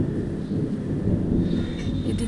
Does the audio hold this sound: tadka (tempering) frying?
no